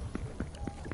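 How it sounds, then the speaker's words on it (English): Running footsteps in Fortnite, quick rhythmic thuds about four per second, close and fairly loud, with a voice talking over them. "I see the footsteps"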